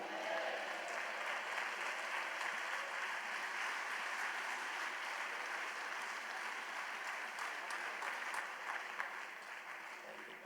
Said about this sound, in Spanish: Yo creo que ese aplauso le podemos dar con más vida al dueño de las riquezas